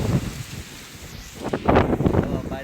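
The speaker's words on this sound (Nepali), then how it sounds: "नयाँ गाउँमा यस्तो हावाहुरी छ" A strong windstorm sweeps through a village in Nawalparasi, giving a steady roaring rush with gusty surges and rain-like hiss that swells louder near the end, close to the microphone and without speech.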